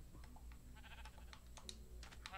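Sheep bleat in the Minecraft video game, several short bleats scattered over a quiet low hum, with faint clicking in between.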